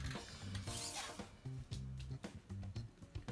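A cutting blade trims excess foam board in short, close, quiet scratchy strokes, rasping in uneven bursts with brief gaps between passes.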